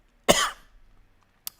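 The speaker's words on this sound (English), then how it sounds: "start coughing. How does he do it?" One short, harsh cough close by, then quiet and a faint click.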